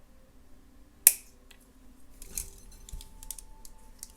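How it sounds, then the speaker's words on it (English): Wire cutters snip off excess wire while a bead is being wire-wrapped for a carnelian and amethyst necklace: one sharp, close click, followed by faint handling sounds. "Snip off the excess."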